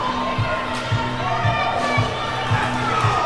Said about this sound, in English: The crowd goes crazy for Alexandria as they are in the lead.